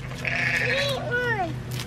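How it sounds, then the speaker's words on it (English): A goat being fed lets out a couple of wavering bleats in quick succession, loud and close, over a low steady background hum. "Ever, give it to the goat."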